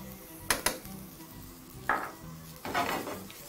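Spices being tossed in a metal pan during cooking, with a few sharp clinks and scrapes of the pan and utensil, then a softer rustling toss, close and fairly quiet with no talking.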